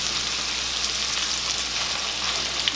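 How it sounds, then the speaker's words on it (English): Onions and peppers fry alongside browned sausage in a pan, giving a dense, even, close-up sizzle that holds steady throughout without pause. "I'm going to go ahead and add in my onions and my peppers"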